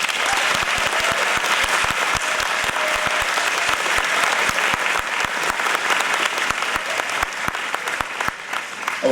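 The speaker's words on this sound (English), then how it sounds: "Let's give them one more round of applause." Audience applause at a mayoral debate, steady, loud clapping from a crowd indoors that continues through the whole stretch without letting up.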